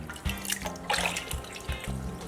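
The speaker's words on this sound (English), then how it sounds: "so now it's back in the water" An object dunked back into water during a dunk test, with sloshing and splashing bursts plus dripping, close by and with no talking.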